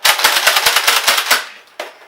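Nerf Modulus Tri-Strike blaster firing darts in rapid fully automatic bursts, about a dozen sharp snapping shots close by and loud, then a brief pause and one more single shot.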